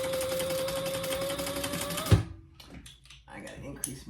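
A sewing machine stitches a quarter-inch seam through a boxy bag lining, running as a steady rapid whir for about two seconds before stopping with a clunk, followed by faint handling noises.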